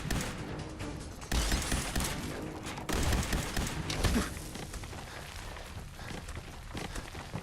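Laser gunfire in the Fallout 4 video game crackles as a dense, continuous barrage, with bursts swelling and fading in loudness over several seconds.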